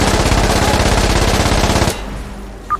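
Rapid sustained automatic fire during a rocket barrage in the Insurgency: Sandstorm video game, a loud dense burst of repeated shots lasting about two seconds before cutting to a quieter tail with a brief sharp sound near the end.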